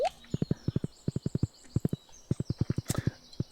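Horse hooves clip-clopping in the Stardew Valley video game, quick evenly spaced clusters of crisp hoofbeats over faint background game music.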